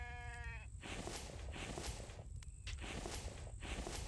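A sheep in the survival game The Infected gives a short bleat at the start, then light footsteps shuffle over steady low ambient noise with no talking.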